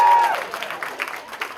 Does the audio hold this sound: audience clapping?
yes